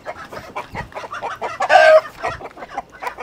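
Chickens cluck in a quick, busy series of short calls, close and fairly loud, with one longer rooster call standing out near the middle.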